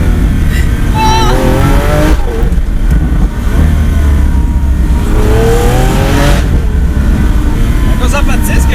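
A Lamborghini Aventador S accelerates on the road, its loud engine note rising and surging through gear changes, heard from inside the car with people talking over it.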